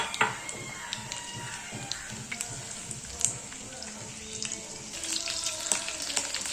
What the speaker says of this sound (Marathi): हिरवी चिली चांगली भाजून द्यायची आहे.